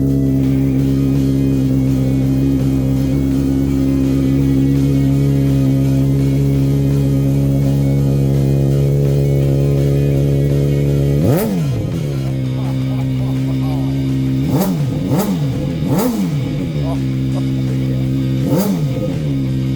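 A Honda CBR600RR sport bike idling steadily, then blipped several times in quick, sharp bursts that spike and fall back, loud and close with a faint voice in the background.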